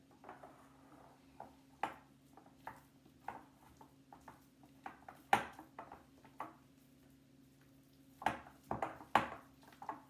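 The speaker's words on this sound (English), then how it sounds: "basil, I'm going to mix this around a little bit" Ricotta gnocchi ingredients with basil get mixed in a bowl, sounding as sparse, irregular clinks and taps of a utensil against the bowl over a faint steady hum.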